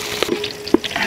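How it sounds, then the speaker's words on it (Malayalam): Onion, green chili and curry leaves frying in coconut oil give a short, steady sizzle, broken by a couple of sharp stirring clicks close by. "ഒന്ന് ജസ്റ്റ് ഒന്ന് വറുത്തെടുക്കാം"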